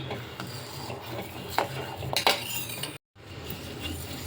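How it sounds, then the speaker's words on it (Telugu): Custard mixture of custard powder stirred steadily in a pan, a spoon scraping and rubbing the bottom in soft repeated strokes, with a few sharper clinks and a brief silent gap. "ఇలా మనం కలుపుతూనే ఉండాలి"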